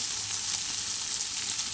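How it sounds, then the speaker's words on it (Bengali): Ridge gourd and egg bhaji frying in a pan, a steady, close, even hiss of sizzling oil that runs unbroken throughout, with no voices. "চলো আর একটু ভাজা ভাজা করে আমি নামিয়ে নেবো"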